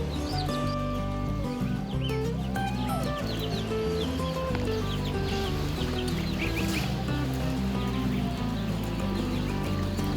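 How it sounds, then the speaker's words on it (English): Young Rhode Island Red and Brown Leghorn chickens cheep and cluck in a steady, overlapping chorus, partly buried under loud, constant background music. "These are Rhode Island Reds and Brown Leghorns."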